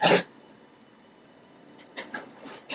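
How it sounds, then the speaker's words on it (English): A dog sneezes once, a sharp, close burst at the start, followed by near quiet with a few faint soft noises toward the end. "Bless you, dog."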